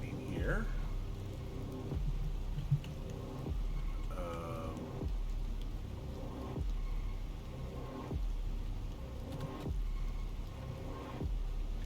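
Rain falls in the survival game Planet Crafter as a continuous soft hiss of drops, with low pulsing rumbles recurring every couple of seconds beneath the other game sounds.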